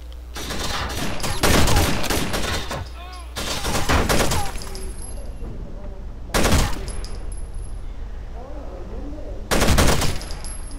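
Gunfire in the video game Rainbow Six Vegas: several loud bursts of automatic fire separated by short pauses, up close, with quieter game sounds between.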